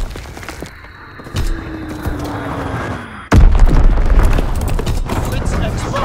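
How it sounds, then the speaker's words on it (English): Enemy bombing run in Call of Duty WWII on the Shipment 1944 map: rumbling booms and gunfire, then a sudden loud blast followed by a sustained heavy roar of explosions, with game voice announcements over it. "Bombing mission ready. Enemy bombing. Get to cover."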